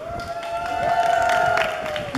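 Parents in the audience at a children's comedy show cheer and shout for a child in a brief, lively burst of crowd noise.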